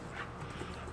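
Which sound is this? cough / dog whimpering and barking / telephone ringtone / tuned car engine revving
dog whimpering and barking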